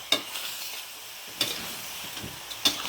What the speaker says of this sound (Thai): เขาเรียกว่าคั่วนะคั่วใส่พริก ใส่เครื่องเทศนี่ค่ะ